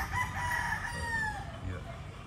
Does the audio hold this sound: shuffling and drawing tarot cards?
no